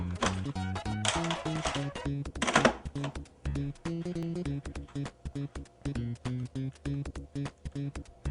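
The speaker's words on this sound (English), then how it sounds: "when you hit the power button, the box makes this weird clicking sound" A retro game console box clicks after its power button is pressed, giving a steady run of sharp, evenly spaced clicks and ticks over a faint repeating tonal pattern, close and fairly quiet.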